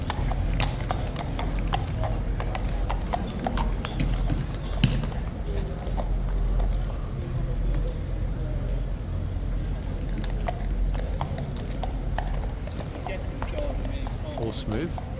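A King's Guard horse's hooves clip-clop steadily on a hard surface amid a busy outdoor crowd murmur, with distant voices throughout.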